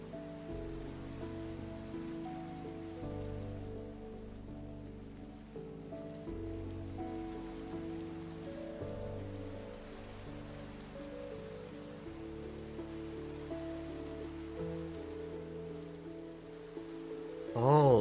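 Rain falls steadily in the video game Minecraft, a soft constant patter beneath sustained background music, with a brief louder sound at the very end.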